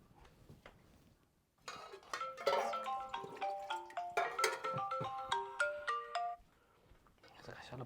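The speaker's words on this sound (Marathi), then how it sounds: "कशाला फोन येतोय?" A phone ringtone plays a loud melodic tune of repeated electronic tones in a home during a family meal, lasting several seconds, with quieter household voices before and after.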